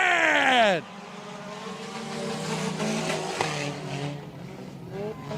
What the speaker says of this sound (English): As they come through 3 and 4, ladies and gentlemen, RPMs are going to start coming up.